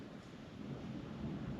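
Thunder from a big storm rolling in over a boat, with storm warnings out. A faint, low, continuous rumble holds steady throughout, with soft rain-like hiss and no voices.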